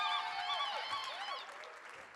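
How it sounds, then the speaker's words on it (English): Audience applause in a hall as performers leave the stage, a short steady patter of clapping that fades toward the end. "let's give them a wonderful round of applause."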